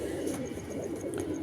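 Pigeons coo softly in a low, rolling murmur that carries on without a break, with a few faint higher chirps above it.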